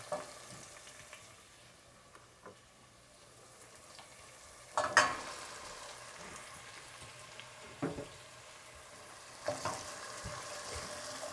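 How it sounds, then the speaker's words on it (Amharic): Red onions fry in a pan for an Ethiopian beetroot and potato stew, added after tomatoes and cooked with nothing else; a quiet, steady sizzle broken by occasional sharp clanks and stirring scrapes, without speech. "ይሄንንም ምንም ሳልጨምር እጠብሳለሁ"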